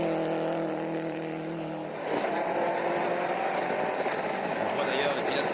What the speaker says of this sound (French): Très puissante, la Subaru à John.